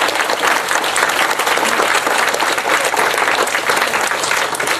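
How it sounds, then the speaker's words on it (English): A theatre audience at a variety show in Margate gives a big, sustained round of applause, dense and steady throughout at close range, with no voices standing out. "can we give him a big round of applause tonight?"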